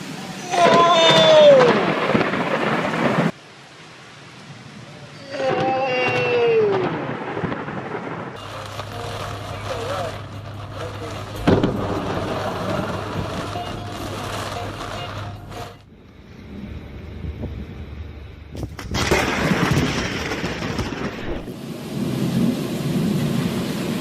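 Lightning strikes set off sharp thunder cracks and rumbles mixed with steady rain, punctuated by loud bursts near the start and later on, while excited voices react over the storm.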